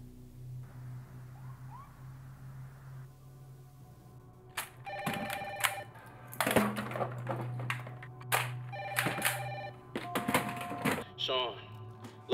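A telephone rings repeatedly in a tense action-film scene, with sharp bursts of ringing spaced across several seconds over a low hum, following a quieter opening stretch.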